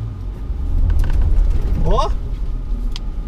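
A Ford Ranger Limited V6 pickup labours off-road up a dirt slope, its engine a steady low rumble with a brief rising whine midway, while excited voices talk over it throughout.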